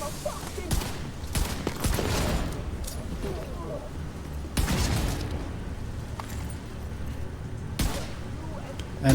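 Video game gunfire and explosions from The Division 2 play as a dense, continuous barrage, with several sharp booming bursts standing out over the constant firing.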